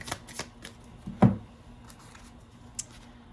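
Tarot cards being handled and shuffled, a few soft papery flicks and one sharper slap of cards in a quiet room, with no talk.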